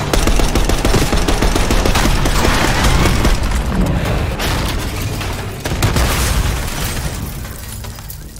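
Dense, loud bursts of automatic gunfire in Call of Duty: Black Ops 6 rattle almost continuously for several seconds, mixed with booms and shattering impacts during a street ambush on a limo.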